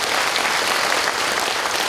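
Audience at a Korean regional forum on military base relocation and local living conditions claps steadily, a dense continuous burst of applause filling the room throughout with no voices over it.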